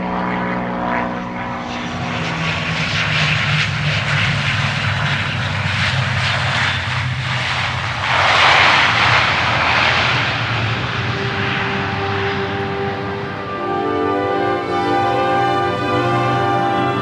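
A propeller aircraft approaches with a steady, loud engine drone that swells toward the middle and holds on. No voices are heard.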